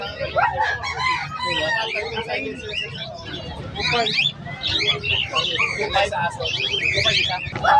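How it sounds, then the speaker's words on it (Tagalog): Many birds chirp, squawk and crow together in a busy, crowded pet market in Bocaue, with people talking throughout. "O ito, may mga ibon din dito."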